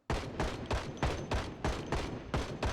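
Rapid bursts of automatic gunfire from a weapon in the zombie survival game Project Zomboid, roughly ten sharp evenly spaced shots in a quick rhythm, loud and close with no talk over them.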